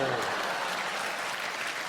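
Audience applause at a comedy show, a steady broadband wash of many hands clapping at once, sustained and fairly loud throughout the short stretch with no break.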